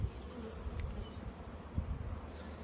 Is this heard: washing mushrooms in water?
no